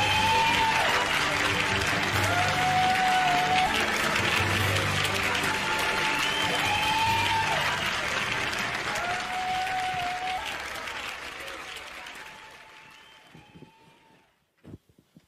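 A large political rally crowd applauds loudly and steadily as a presidential candidate is welcomed onto the stage, the sustained clapping holding for about twelve seconds before gradually thinning and fading out, with faint voices mixed into the noise.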